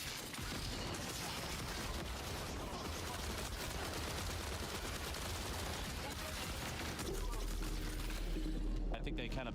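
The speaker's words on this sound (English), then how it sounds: "They were shooting something in there." Dense, sustained gunfire and crashing impacts in the shooter video game Marathon, loud and continuous throughout, with players talking over it.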